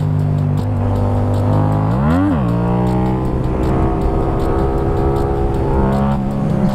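A motorcycle runs loud and close during wheelies, its engine droning steadily. The revs climb sharply once in the middle, and a smaller rise comes near the end.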